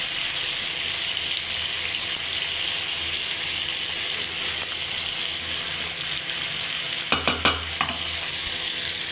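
Mango pickle fries in hot oil with a steady close sizzle and hiss. A few sharp clatters of a spoon stirring against the pan come near the end.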